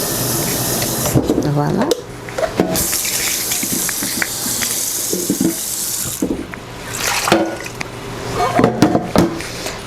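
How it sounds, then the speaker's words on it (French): Tap water running into a pot in a kitchen, to be boiled for steamed catfish, a steady splashing gush that pauses and resumes, with someone speaking over it. "je vais bouillir de l'eau pour notre poisson. Je vais juste mettre de l'eau."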